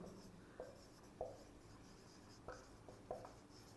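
Someone writes on a board during a thermodynamics lesson. Four or five short, scratchy strokes sound at irregular intervals, close and faint, against a quiet room hiss.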